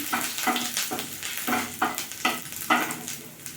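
Grated ginger sizzles and fries in a hot pan for a vegetarian Bengali papad-chhana dish, with steady close crackling broken by several rhythmic bursts of stirring and scraping, no voices.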